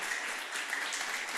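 A church congregation applauds during a sermon in a dense, steady wash of many hands clapping that fills the space evenly from start to finish, with no distinct voices on top.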